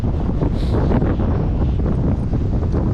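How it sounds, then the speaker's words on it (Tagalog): Strong wind at sea on a fishing trip roars and buffets a microphone nonstop, a heavy low rumble with gusty swells. "Ngayon po ay sobrang lakas ng hangin."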